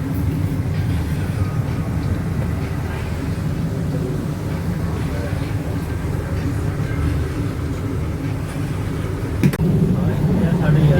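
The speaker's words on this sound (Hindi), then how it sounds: "ये जी हमारी ट्रेन चल गई है" Passenger train moving along the tracks, heard from inside as a loud, steady low rumble and rattle that fills the whole stretch, with a brief clank near the end.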